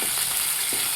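Dry red chillies, curry leaves and tempering seeds sizzle in hot oil for a Telugu taro tamarind stew, a steady close hiss broken by a few small pops.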